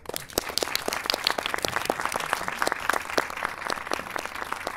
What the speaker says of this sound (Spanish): Les voy a pedir aplausos, por favor